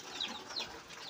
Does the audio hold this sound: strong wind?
no